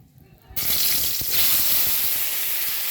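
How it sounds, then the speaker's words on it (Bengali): Koi fish frying on a clay stove in a village kitchen: after a quiet start, a loud, steady, hissing sizzle bursts in and holds without break until it cuts off. "আমি কই মাছগুলো ভালো মতো ভেজে নিচ্ছি।"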